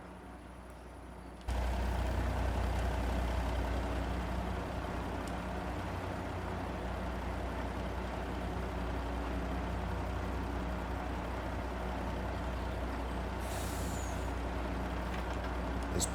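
A dirty dump truck idles with a steady low rumble and a sharp hiss of air brakes before it dumps a load at a trash-to-energy site.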